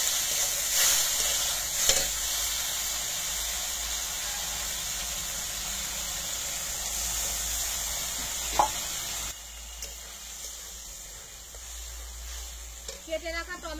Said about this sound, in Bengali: আদা রসুন পেঁয়াজ ভাজা হয়ে গেছে, এইবারে এই মশলাটা দিয়ে দেবো